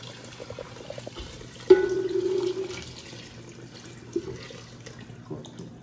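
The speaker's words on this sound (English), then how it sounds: "We're gonna add the water" Tap water runs into a cooking pot of lentils with chorizo and garlic, a steady splashing pour lasting about a second, then fainter kitchen clatter and a brief knock afterward.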